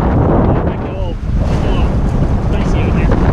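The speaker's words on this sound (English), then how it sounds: "that's one of those first gusts that are going to start coming through." A strong wind gust buffets the microphone aboard a Corsair F-27 trimaran sailing in a race, loud roaring rush with water and hull noise underneath, steady and close throughout.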